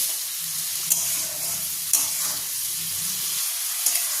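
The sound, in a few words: prawns frying in a pan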